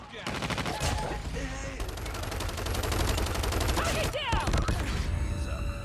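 Rapid automatic gunfire rattles through a multiplayer shooter match, with sustained bursts and a few breaks, mixed with game effects and voices talking over the shooting.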